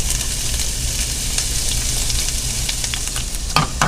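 White onions and garlic sizzling in sesame oil in a heated pan, a steady close crackling hiss running throughout with a few sharper spits near the end.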